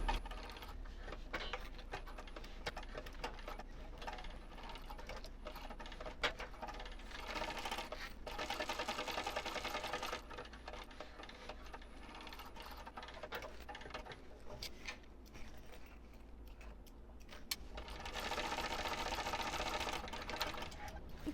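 A sewing machine stitches all the way around the seam of a fabric pouch, ending with a back stitch. The motor hum runs steadily and close for the whole stretch, with brief pauses and restarts, and no one speaks.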